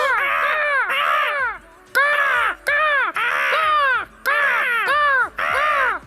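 Harsh, drawn-out crow caws from a cartoon, repeated in quick bursts of two or three calls with short gaps, loud and close throughout.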